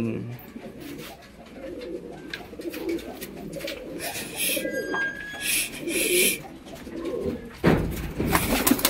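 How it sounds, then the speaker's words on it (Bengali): A pair of tumbler pigeons coos and calls close by, with soft flutters and rustles under intermittent background voices and outdoor noise. "এক জোড়া তুড়িবাজ পেয়ারের খেলাটা দেখবো"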